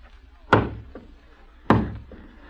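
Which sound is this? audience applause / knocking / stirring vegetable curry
knocking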